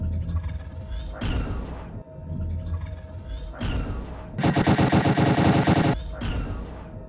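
Ship cannons on a Super Hornet Mk II in Star Citizen fire in loud repeated bursts, each volley a rapid rattling string of shots with whooshing tails, separated by short gaps and ending in one long sustained burst.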